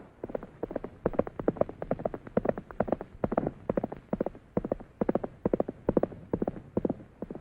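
Horse hooves clip-clopping in a quick, steady rhythm, clear and fairly close, with no other sounds.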